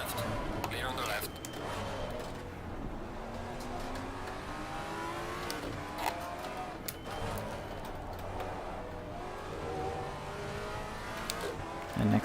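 A GT4 Maserati race car in a VR Assetto Corsa Competizione race at Indianapolis, engine droning and shifting as another car runs alongside, steady mid-level roar with someone talking over it.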